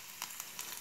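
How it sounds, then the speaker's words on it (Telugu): Cumin and other tempering spices sizzle in hot oil in a continuous hiss, with a few faint crackles and pops, close and alone. "ముందుగా తాలింపు దినుసులు వేసేస్తున్నాను"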